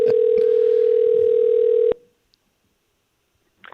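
A steady, loud telephone dial tone holds for about two seconds, then cuts off abruptly into near silence, followed by a faint brief noise at the end.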